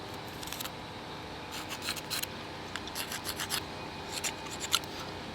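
A concrete fire pit block, cut back at an angle for room near the gas piping, gives faint, intermittent rasping and scraping strokes in short bursts over a steady background hum, with no talking.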